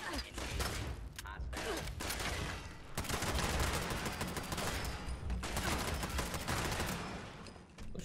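Short burst of rapid automatic gunfire from a weapon in the Fallout 76 video game, loud and dense with sharp repeated cracks over a steady combat backdrop, no talking.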